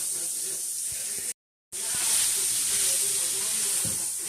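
Sausage frying in a pan for a cheese pasta dish, a steady close hiss and sizzle with a brief silent gap, no talking.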